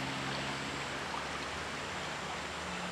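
A steady, broad rush of abundant river water flows continuously near a village stream, a soft even wash with no voices over it.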